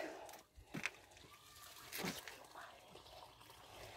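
Spring water trickling and splashing at an outdoor devotional spring in Rebouças, Paraná, as a devotee collects it, a soft steady flow with brief louder splashes and faint background voices.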